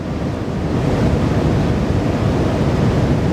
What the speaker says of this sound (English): just the whooshing of the water in front of the boat, really